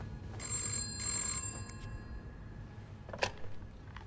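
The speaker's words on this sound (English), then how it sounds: "Oh, God, the phone's ringing." A telephone rings in the video game This Bed We Made, two short bursts of bright trilling over a low background hum, followed by a faint distant knock.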